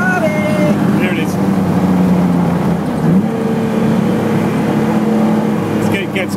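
Lancia Stratos racing car on a flying lap at the Le Mans Classic, July 2012, heard from inside as a loud, continuous engine drone that shifts pitch with gear changes and has a few faint sharp noises on top.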